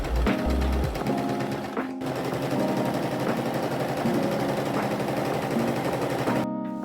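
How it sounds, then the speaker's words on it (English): A domestic sewing machine runs continuously while top-stitching stiff pleather fabric, a dense mechanical chatter with a steady rapid rhythm, loud and close, briefly pausing twice. "here is some fun top stitching and the sounds of my machine desperately, desperately begging me not to sew with this fabric"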